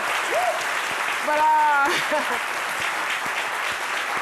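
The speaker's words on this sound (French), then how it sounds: "Je vous demande de l'applaudir très, très fort" A studio audience applauds a guest on a French-language midday talk show, steady broadband clapping running through the whole stretch while a host's voice speaks over it partway.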